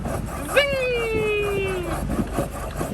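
A fishing reel on a sailboat crossing from Curaçao gives one sudden, drawn-out whine as line runs out, sliding lower in pitch over about a second and a half over a background of wind and boat noise.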